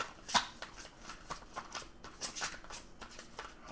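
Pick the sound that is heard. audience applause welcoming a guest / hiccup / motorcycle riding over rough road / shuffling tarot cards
shuffling tarot cards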